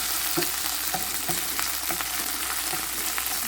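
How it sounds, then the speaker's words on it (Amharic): Chopped onions sauté in a little oil in a frying pan, giving a steady close sizzle broken by soft taps and scrapes of stirring, with no talking. "ይሄው ሽንኩርቱን በዚህ መልኩ እያቁላላሁት ነው ያለሁት።"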